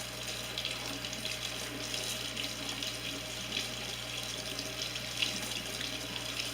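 Tap water runs steadily into a sink while a makeup brush is rinsed bristles-down under the stream, a constant soft splashing hiss with no voices.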